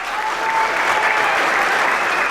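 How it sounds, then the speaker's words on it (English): Sustained applause from a banquet audience greets a St. Louis Sports Hall of Fame inductee, a thick, even roar of many hands clapping throughout. "Your applause, please, tonight for our first inductee into the St. Louis Sports Hall of Fame"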